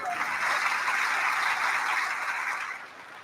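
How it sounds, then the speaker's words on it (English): An audience at a high school National Honor Society induction ceremony claps in a steady, dense wash of applause that tapers off near the end, with no talk over it. "give a big round of applause for Steve Anthony for being our master of ceremonies"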